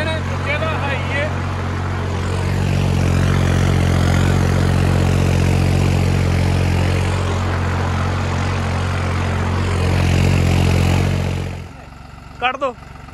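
A Deutz Fahr 70 hp tractor engine rumbles up close, rising to a stronger, louder run through the middle before settling back, with someone speaking briefly at the start and end.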